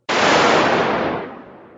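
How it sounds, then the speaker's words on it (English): A lightning strike's thunder bursts in suddenly, loud and broadband, then rumbles and slowly fades over nearly two seconds with no voices present. "while we're all familiar with the sound of lightning,"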